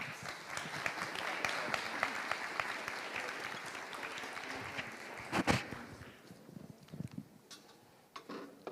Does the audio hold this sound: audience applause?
yes